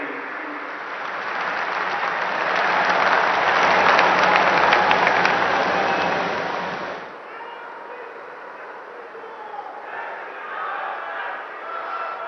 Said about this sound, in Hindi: आपकी जोरदार तालियों के बीच माननीय मुख्यमंत्री जी से निवेदन, अपने संबोधन के लिए पधारे श्री नायब सिंह सैन